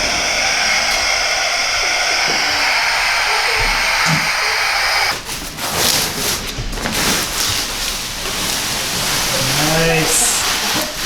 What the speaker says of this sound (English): Got the steamer, got the scraper.